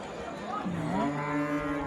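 Kangayam cross cattle at a livestock market in Melapalayam give a long drawn moo that rises and falls, heard over the dense murmur of a crowded market.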